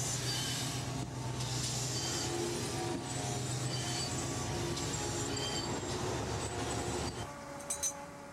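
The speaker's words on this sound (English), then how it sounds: "Number 4160 was built after nationalization in 1948, but was based on Churchward's earlier tank locomotives." Great Western steam tank locomotive No. 4160 on the West Somerset Railway, a steady rumbling train passage with wheel squeal and clinking close by, easing off near the end.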